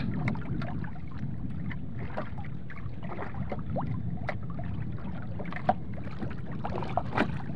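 Wind rumbles over open water while oars splash and knock against a wooden boat in an irregular rhythm, with occasional sharper creaks and thumps.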